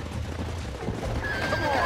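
A wild horse in the Red Dead Redemption video game gives a loud, close whinny that rises in pitch, over a faint clip-clop of hooves.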